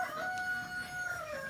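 Chickens in a cold barn in winter, a single close bird giving a sustained tonal crowing call that holds steady, then bends downward, with light barnyard noise underneath and no talking.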